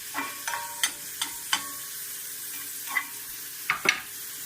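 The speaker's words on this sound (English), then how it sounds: "So you want to stir this stuff around." Philly steak taco filling stirred in a frying pan: a quiet sizzle underneath, broken by a handful of sharp scrapes and taps of a utensil at irregular intervals, close but fairly soft.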